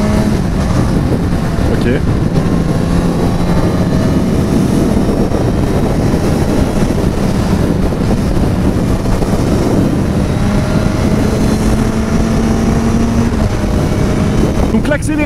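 A Suzuki GSX-S 950 motorcycle accelerating on the road, its engine note rising steadily under heavy wind rush, loud and close, with a brief spoken word at the start.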